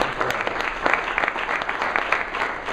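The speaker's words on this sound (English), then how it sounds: "So give Karen and her team a round of applause" A meeting audience gives Karen and her events-planning team a round of applause, a steady, dense wash of many hands clapping at moderate distance throughout, with no talk over it.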